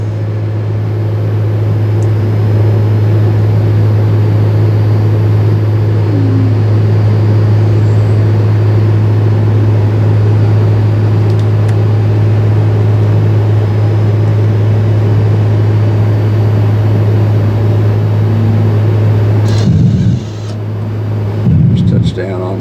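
A light aircraft lowers its landing gear and sets full flaps for landing, heard as a loud, steady engine drone throughout, with a few bumps and rattles near the end.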